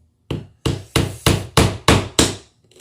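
A hammer strikes gypsum drywall seven times to knock a hole, giving loud, evenly spaced thuds about a third of a second apart, close by with no talking.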